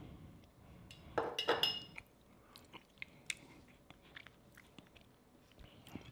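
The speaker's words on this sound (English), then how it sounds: "Go ahead and give it a little taste." Someone chewing a bite of Spanish octopus salad, with soft crunchy bites and a few faint clinks of dishes, heard quietly and up close with no talking.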